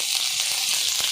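Red chillies and mustard seeds sizzle in a spoonful of hot oil, making a dense, continuous crackling hiss with a few sharper pops.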